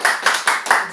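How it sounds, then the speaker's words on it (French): A congregation at a church sermon clapping in quick unison, about five loud, even claps packed into one second. "Applaudissez pour Josué."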